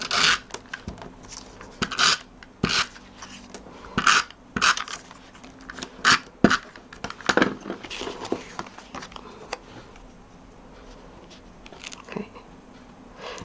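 A Stampin' Up snail adhesive roller run across paper in quick, irregular strokes, each a short, close, scratchy rasp, with pauses and light paper handling between.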